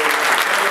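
Audience applause for conference committee members at a geospatial conference, a dense, steady wash of many hands clapping close and loud throughout the short burst.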